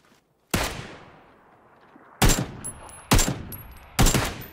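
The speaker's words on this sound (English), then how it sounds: "Put some buckshot, shoot some shots and scare him." Gunfire in the PUBG battle royale game on Xbox One, buckshot-style shots: four sharp, loud blasts spaced roughly a second or more apart, each with a decaying tail, with no speech over them.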